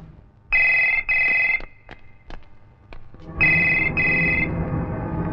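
A telephone rings with an electronic trill, two short bursts close together, then a pause with faint clicks before a longer ring, loud and near with no speech.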